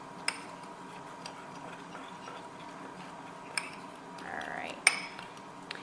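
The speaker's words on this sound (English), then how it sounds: "So I'll mix that up real good." A spoon stirs a single-serving chocolate cake batter in a dish, giving soft scraping with a few sharp clinks against the side, steady and close over a quiet room.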